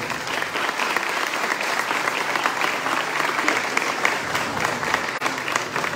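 Sustained audience applause greets the Puebla state tourism secretary at a tourism plan presentation, steady and dense from start to finish, with a faint voice or two murmuring underneath.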